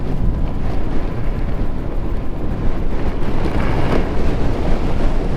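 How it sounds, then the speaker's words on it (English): Heavy wind roars steadily through a snow blizzard while riding an e-bike in Belleville, Ontario, a loud, constant rushing buffet close to the microphone with no break. "Oh, what a blizzard."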